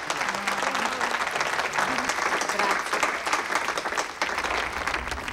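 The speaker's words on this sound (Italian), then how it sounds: "accogliamo il nostro sindaco con un caloroso applauso" Warm audience applause welcoming a mayor at a public event in Italy, a sustained, dense wash of clapping from a crowd with a few voices faintly mixed in.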